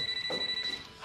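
A telephone rings, a brief steady electronic trill heard faintly under room background, with a small shuffle near the end.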